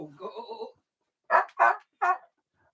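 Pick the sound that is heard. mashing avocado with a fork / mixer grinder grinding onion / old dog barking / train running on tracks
old dog barking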